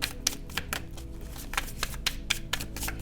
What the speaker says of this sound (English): I'll give it a little more shuffle.